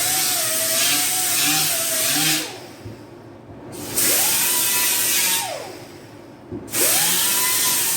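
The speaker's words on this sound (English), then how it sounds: "Grind the paint off the end here." Power grinder stripping white paint off the end of a roll bar on a Triumph Spitfire, loud whining bursts that rise and dip in pitch with short pauses between passes.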